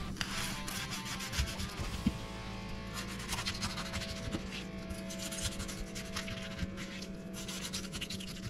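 Quiet, steady scratchy crunching as a knife saws through the crisp crust of a chicken roulade, continuing without pause and with no talking.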